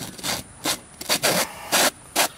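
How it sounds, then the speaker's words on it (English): Threaded PVC sewer clean-out cap turned back on by hand, giving a series of short gritty plastic rubbing and scraping bursts, close and moderately loud with brief pauses between turns. "you always want to put your threaded cap back"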